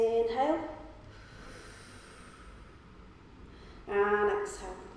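Deep breaths in a Pilates exercise, a couple of audible sharp inhales and exhales near the start and again toward the end, soft airy hiss between them, fairly close and quiet.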